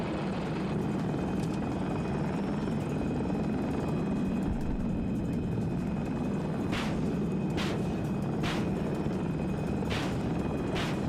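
A helicopter in the video game Battlefield 6 gives a loud, constant rotor and engine roar that runs the whole time, with several short sharp bangs toward the end.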